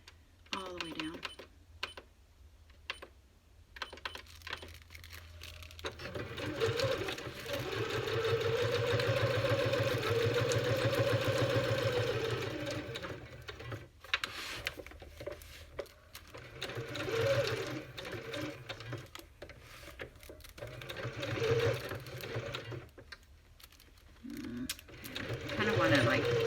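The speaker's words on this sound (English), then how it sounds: "I think I'm going to do a straight stitch all around, all the way down." A sewing machine runs a straight stitch on junk journal tags in several close, steady mechanical bursts, some short and one long continuous run, with pauses between and a quiet voice talking at times.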